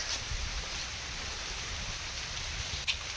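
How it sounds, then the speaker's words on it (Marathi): Light rain patters softly and steadily, a faint continuous hiss with a couple of brief brighter ticks. "2:30 वाजताच पाऊस टिपी टिपी चालू झाले"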